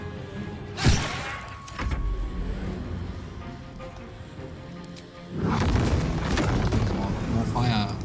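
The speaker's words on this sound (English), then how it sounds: "More fire." Fire roars and crackles in the Baldur's Gate video game: a sharp whooshing burst early on, then a rumbling blaze that swells louder in the second half.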